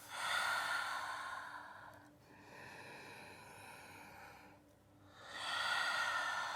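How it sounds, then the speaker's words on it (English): Deep, slow yoga breaths taken in downward facing dog during a vinyasa flow, with two long airy exhales and inhales in a calm rhythm, close and clear with no talk. "take 3 big breaths here"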